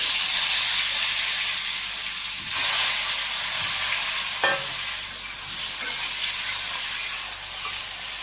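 Potatoes frying in oil for a village-style potato bhaji, a loud, dense, continuous sizzle that swells briefly, with a sharp clink or two of a spatula, no talk.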